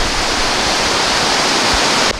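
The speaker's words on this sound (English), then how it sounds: "So this is where the water from the creek, I don't know what they call it really, it flows down into a bit of a lake here" Creek water flowing down into a small lake at Parc Baie-des-Rochers on the St. Lawrence River makes a loud, steady broadband rush that continues without break throughout.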